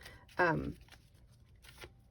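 Tarot cards are shuffled by hand in one short riffling burst, close and soft, with quiet room tone after it.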